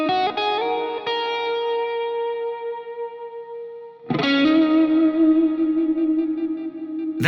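Electric guitar notes picked lightly with the fingers through a Neural DSP amp tone, a handful of sustained singing notes with a fresh attack halfway, clean yet slightly saturated, close and alone.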